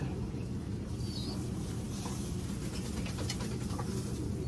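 Racing pigeons in a loft give soft, low cooing over a steady rumbling background, with a few faint higher chirps drifting through.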